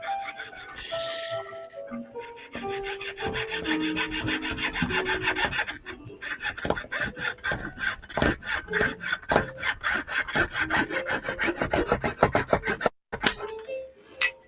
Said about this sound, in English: Jeweler saw for the win.